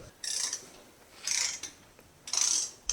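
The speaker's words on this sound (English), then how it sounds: "if you want to hit that with a torque wrench" Three clicking ratchet bursts from a torque wrench tightening bolts on a Suzuki DR650 motorcycle, evenly spaced, close and fairly crisp with quiet gaps between.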